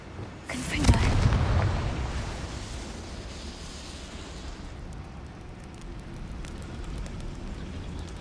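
In a Hogwarts-style video game, a Confringo blasting spell goes off as one loud burst that swells into a long rumbling roar, then trails into a steady low ambient hum.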